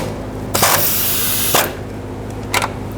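A power tool runs in a loud, close burst of about one second while tightening a bolt on a fuel line clamp on a 2007-2014 Chevrolet Silverado 2500 HD. A short second whir follows near the end, with no talking.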